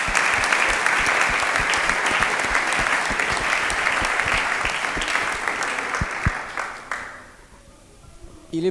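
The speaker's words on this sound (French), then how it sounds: "Faites ça ensemble, applaudissez pour moi." A comedy show audience claps together in a dense, sustained burst that fades out near the end, leaving a quieter room with faint voices.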